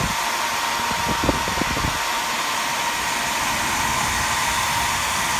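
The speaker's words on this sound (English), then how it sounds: "So I like to hold the blow dryer, under it, and just warm it up a little bit" A hair dryer blows continuously with a steady, loud whooshing roar, warming a rust-removal treatment on steel nuts and bolts, with a brief low rumble early on and no talking.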